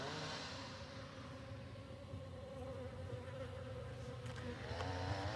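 Honey bees buzz continuously and densely at close range while a hive is opened for inspection, a steady droning swarm with no talk.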